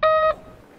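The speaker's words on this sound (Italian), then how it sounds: "metteranno un beep" A single loud, short electronic censor beep, a clean steady tone lasting about a third of a second before dropping to near silence.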